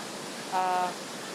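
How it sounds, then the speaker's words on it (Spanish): Pulmora cascade waterfall, high in the Andes near Canta, Peru, a steady broadband roar of falling water heard at a distance, with a brief tonal voice-like sound rising over it midway. "Esta catarata, la cascada de Pulmora"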